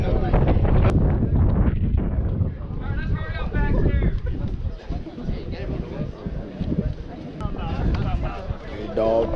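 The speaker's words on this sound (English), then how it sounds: "It's a little windy." Gusty wind buffets the microphone in loud rumbling bursts at a military ball while people talk and shout in the background.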